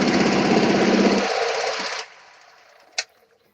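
A Husky 240 chainsaw engine runs at a steady buzzing idle, then cuts out after about two seconds, followed by a single sharp click in the quiet.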